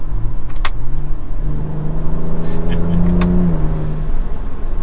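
A 2024 Ford Ranger Raptor pulls hard in sport mode with manual shifting. Its exhaust note rises steadily through the revs, loud and close, with a voice talking over the engine for much of the run.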